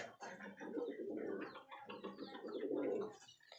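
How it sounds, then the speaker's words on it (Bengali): Pigeons in a loft coo steadily, several birds overlapping in a continuous, moderately loud, close murmur with no pauses. "এখানে কিছু পায়রা রয়েছে বসে।"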